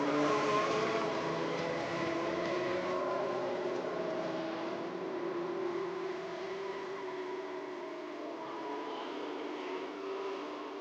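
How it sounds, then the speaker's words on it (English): Outlaw Mini-Mod race cars rolling around Worthington Speedway on a parade lap, a steady engine drone and hum heard from a distance for the whole stretch, with no talk. "this is your parade lap for your Outlaw Mini-Mods"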